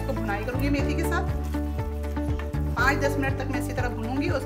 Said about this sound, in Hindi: थोड़ा सा मैं इसको भुनाई करूंगी मेथी के साथ